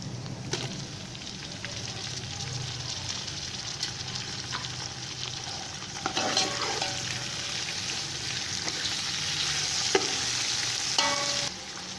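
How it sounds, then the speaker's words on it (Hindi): Tomatoes frying in a pan for mutton pulao, a continuous sizzling hiss that grows louder partway through, with intermittent stirring scrapes and clicks of a spoon, no speech. "टमाटरों को थोड़ी देर के लिए फ्राई कर लेंगे।"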